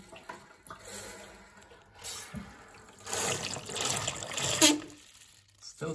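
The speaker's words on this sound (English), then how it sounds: "I'll put it in and we'll just flush again" Toilet cistern refilling after a flush through an adjustable fill valve with a pressure reducer: water gushes and trickles into the tank, building to a louder surging rush midway, then easing, close and fairly quiet.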